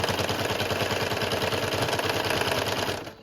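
Steady, close mechanical whirring of a sewing machine running continuously while stitching half-inch fabric straps, slowing and stopping at the end.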